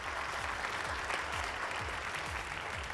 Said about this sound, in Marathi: एकदा जोरदार टाळ्या व्हायला हव्यात.